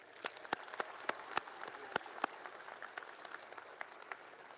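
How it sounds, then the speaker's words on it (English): Applause at a high school graduation ceremony for the graduating seniors, a quiet audience clapping with several sharp, distinct nearby claps over a soft, steady background patter. "Let's give our seniors another round of applause."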